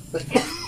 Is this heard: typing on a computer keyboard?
no